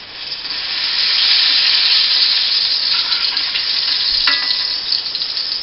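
Scrambled eggs sizzle loudly in a frying pan with a steady hiss, broken now and then by stirring scrapes and light clicks, heard close and with no talking.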